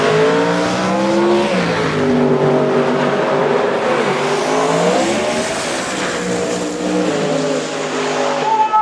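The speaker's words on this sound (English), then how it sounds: "540 cubic inches of Brad Anderson Turbo" A 540 cubic inch Brad Anderson turbo drag racing car at a door wars drag race, loud roaring engine with rising and falling pitch as it revs and pulls away, close and alone.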